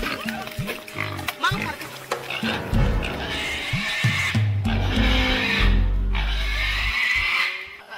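A pig squealing and struggling while held in a rural Amazon setting, giving loud, repeated shrill squeals and grunts up close with scuffling, and voices talking over it.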